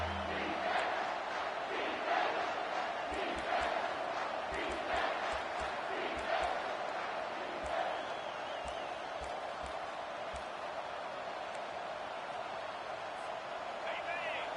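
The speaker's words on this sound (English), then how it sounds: "This crowd rising up, sensing that its defense needs some help" A college football video game stadium crowd, Michigan versus LSU, swells in a loud sustained roar with rhythmic chanting thumps beneath, while a commentator's voice talks over it.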